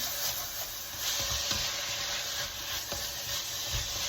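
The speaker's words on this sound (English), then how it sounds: "we're just gonna cook these down and kind of caramelize them." Chopped vegetables for crawfish étouffée sizzle steadily in a hot pan as they cook down and caramelize, a continuous soft hiss with occasional quiet stirring scrapes and no talking.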